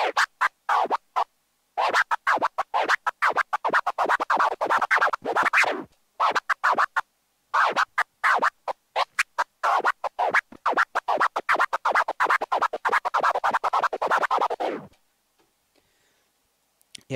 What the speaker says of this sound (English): the fifth phase of a prism starts from the 6th sound, and then you're going through the rest of the scratch